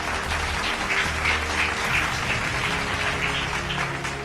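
A church congregation claps and cheers for Jesus in a dense, continuous roar of applause that holds steady throughout, with no voices standing out.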